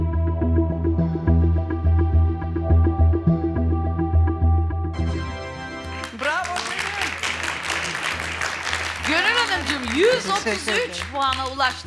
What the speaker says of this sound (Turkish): Alkışlarla sizi yerinize alıyorum.